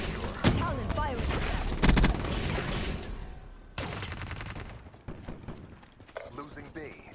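A Talon scorestreak drone fires its guns in a video game match, with bursts of rapid fire and impacts under radio-style announcer callouts and game voice lines.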